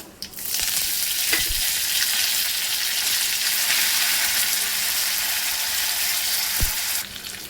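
Curry leaves and coriander hit hot oil for a tempering poured over fresh coconut chutney, giving a loud, continuous sizzle and crackle that bursts in sharply, holds steady for several seconds, then cuts off.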